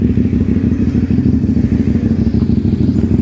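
A Kawasaki Ninja 400 with a 270-degree crank revs close by, giving a loud, throbbing low engine rumble that holds steady and alone without talk.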